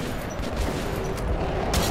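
Rapid bursts of shotgun fire crack out in a loud, chaotic volley, several blasts overlapping close by, in the video game Metro 2033 Redux.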